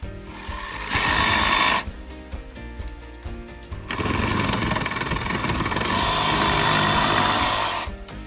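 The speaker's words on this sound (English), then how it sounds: "So we get a new Ryobi oscillating saw" A new Ryobi oscillating multi-tool saw cuts during a facelift on a 100-year-old house, its loud buzzing whine coming in several bursts of about one to four seconds, close by, with no talk.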